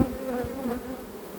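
Swarm of honey bees, collected in Varennes-sur-Seine, gives off a close, steady hum with individual wingbeats rising and falling over the dense buzz, alone without speech.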